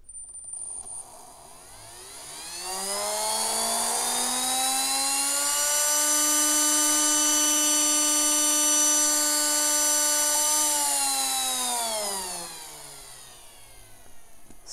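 A 3D-printed three-phase electric jet motor, a version with no seal between rotor and stator, spins up to a loud, whining high-pitched scream, holds steady for several seconds, then winds back down, heard close with no talk.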